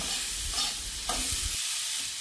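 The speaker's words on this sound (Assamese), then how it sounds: "এইখিনি অকণমান সময় ভাজি ল'ব লাগিব।" Potatoes seasoned with turmeric fry in a pan, giving a close, steady sizzle with a few scraping stirs before the sound thins out near the end; no one speaks.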